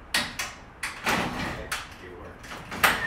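A residential garage door is released from its emergency opener and moved by hand, giving a few knocks followed by a rolling, sliding rumble, close by.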